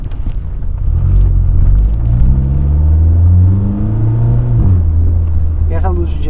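A VW Tiguan turbo pulls hard through a tunnel, its engine note climbing in rising sweeps over a loud, steady enclosed rumble, with a shift near the end and voices talking over the drone.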